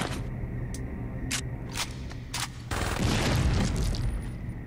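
Frag grenades in the Saints Row 2 video game go off as sharp booms, several brief bursts in quick succession followed by a longer rumbling blast, with no talking.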